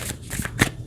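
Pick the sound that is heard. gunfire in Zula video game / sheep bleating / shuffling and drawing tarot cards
shuffling and drawing tarot cards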